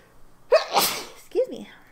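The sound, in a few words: sneeze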